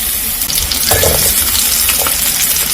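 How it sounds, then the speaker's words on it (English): Onions frying in cooking oil in a pan, a steady, loud crackling sizzle with faint bubbling, continuous and close. "I'm just going to fry the onions and this to golden brown."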